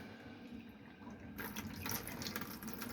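Water starts running from the tap of a vanity sink in a Swift Corniche caravan, a faint hiss that swells into a steady splashing stream into the basin.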